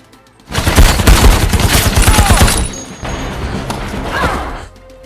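Loud bursts of rapid gunfire crackle in quick succession during a movie shootout, a dense volley that eases off midway and then returns in a softer burst.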